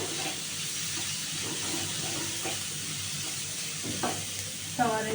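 Cumin powder is stirred in a pan while rui fish dopeyaja cooks with plenty of onion, giving a steady close sizzle with soft scraping; a voice is heard briefly near the end.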